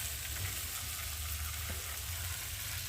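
Ground ginger, cumin and garlic paste frying in a pan gives a faint, steady sizzle with a low hum beneath it, heard alone with no talking.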